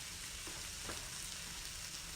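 Hibachi-style chicken frying on a hot griddle gives off a steady, close sizzle that holds without pause, with faint scraping and stirring noises over it and no talking.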